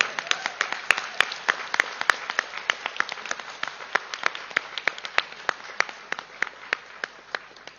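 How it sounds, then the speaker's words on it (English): A small audience at a breathing and meditation session applauds, with sparse, fairly regular individual claps rather than a dense roar, close and clear, with no voices over them. "Give a big clap to this great master."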